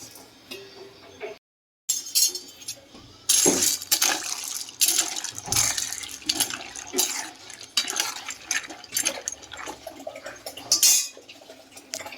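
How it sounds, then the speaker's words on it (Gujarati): Dry pasta is dropped into a pot of boiling water, followed by splashing, rattling and metallic clinks against the pot, with bubbling water close and moderately loud between the clatters. "પાણી ગરમ થઈ ગયું છે ઉકળે છે હવે આપણે આમાં પાસ્તા નાખશું બફવા માટે"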